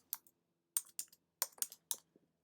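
Keys clack on a computer keyboard in short, uneven bursts, quiet and close, with small gaps between clusters of presses in an otherwise silent room.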